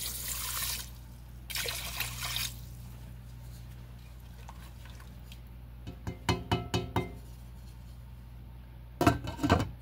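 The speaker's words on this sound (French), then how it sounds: "je vais venir mettre 2 tasses d'eau." Two cups of water poured into a pot holding one cup of rice, heard as short trickling splashes near the start, followed by light knocks and clinks of the pot and cup, close and fairly quiet.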